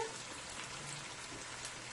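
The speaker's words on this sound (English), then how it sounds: "And my chicken is frying up nicely there." Chicken fries in a pot on high heat, giving a soft, even sizzling hiss that stays steady and fairly faint for the whole short moment.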